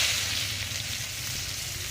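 Sliced onions go into hot oil left over from frying catla fish, giving a soft, steady sizzle and hiss that stays faint and even throughout.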